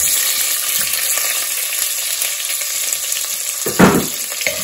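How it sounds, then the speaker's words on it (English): Onion for mutton do pyaza fries in a pan with a steady loud hiss, while a spatula clatters briefly near the end, all close-up and without voices. "And I'm gonna fry this onion"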